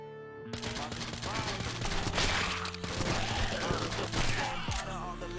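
Rapid, dense gunfire bursts in the mobile zombie shooter Last Hope 3: Sniper Zombie War, sharp repeated shots with crashing impacts filling the clip, layered over game background sounds.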